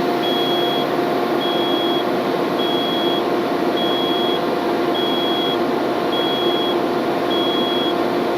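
A truck's audible low air pressure alarm beeping in a steady, evenly spaced series of high tones over the constant drone of the idling engine nearby.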